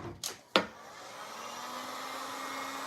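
A hair dryer dries a freshly restored silver tray, two quick bursts as it is switched on, then a steady whooshing hum running alone.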